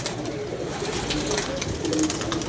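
Pigeons coo softly and repeatedly nearby, low throaty calls layered over a busy, noisy background.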